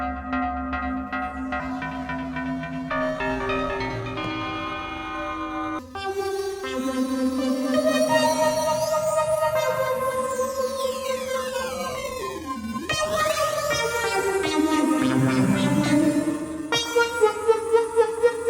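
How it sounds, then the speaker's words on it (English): A microKORG2 synthesizer plays sustained tones and sweeping pitch bends soaked in its grainy, lo-fi low-res reverb, loud and continuous, ending with rhythmic pulsing notes. "a very cool reverb on the MicroKORG2, we've got this low res reverb, so let's try that out."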